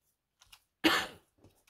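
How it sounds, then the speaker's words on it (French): One short, harsh cough bursts out close up, preceded by faint small throat sounds and followed by quiet rustling. "c'est maintenant que je vais me mettre à tousser"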